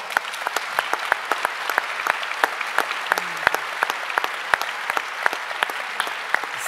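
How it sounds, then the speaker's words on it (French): A small audience claps at an award ceremony during a conference, the separate claps sharp and distinct at a steady pace for several seconds. "On peut les applaudir très fort."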